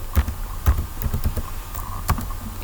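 Keys clatter on a computer keyboard in a short burst of uneven taps, close and fairly loud over faint room noise, as a flyer name is typed in Adobe Illustrator.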